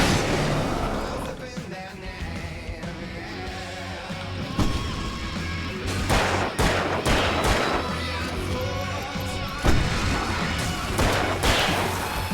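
Alan Wake game combat with a flashbang and gunfire: booming blasts and sharp shots over a busy, loud mix, with several heavy hits spread through and speech in the background.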